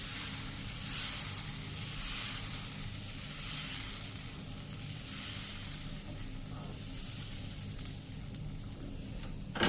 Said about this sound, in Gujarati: તો આ રીતે આપણે જેવડો ઢોસો ઉતારવો હોય એ પ્રમાણે આપણે બેટર નાખશું અને એને આપણે આ રીતે ફેરવી લેશું.